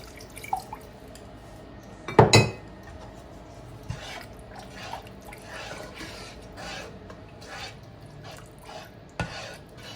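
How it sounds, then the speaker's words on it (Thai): Water is poured into pad thai sauce in a rice cooker pot. A short splash comes early, followed by scattered drips and light clinks over a quiet background. "น่าจะเติมน้ำอีกหน่อยนะคะ"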